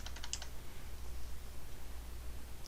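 A quick burst of typing on a computer keyboard, a handful of light rapid clicks at the start, then steady faint background noise.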